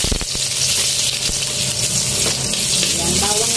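Garlic sautéing in hot oil in a kawali, a loud, dense, hissing sizzle filling the whole stretch close up, with faint clatter from the pan.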